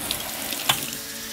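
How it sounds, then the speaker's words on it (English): Water from freshly watered hanging plants drips into a kitchen sink, a steady close splashing wash with one sharper drop midway, no voices. "It drips directly into the sink and it makes watering so, so much easier."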